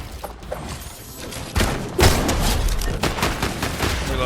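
Weapon reload in Fortnite ranked play: a burst of game sounds with loud thumps and gunfire-like hits and mechanical clicks, steady busy game audio throughout, no talk.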